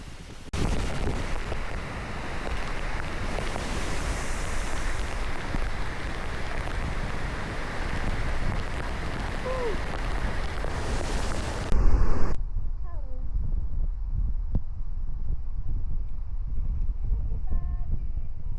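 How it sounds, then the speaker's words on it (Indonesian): Heavy rushing water roars steadily from Tumpak Sewu waterfall in Lumajang, Indonesia, loud and broadband, then abruptly drops to a quieter, distant water rumble. "Tempat di mana air turun dari segala sisi."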